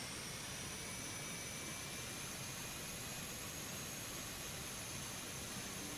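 The BD-5J jet's thrust reverser roars in a flight simulator game, a steady, broad jet-engine rush with a faint high whine, continuous and unchanging throughout, no voices.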